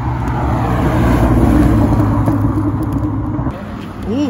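A TVR sports car drives past on the street in Alderley Edge, giving off a loud, deep engine rumble that swells and then eases as it goes by.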